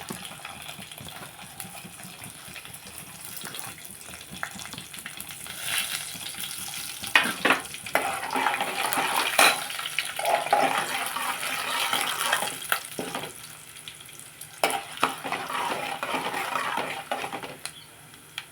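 Urad dal and mustard seeds crackle and sizzle in hot oil for a tempering, a continuous frying hiss with scattered pops and clatter that grows busier partway through, no speech.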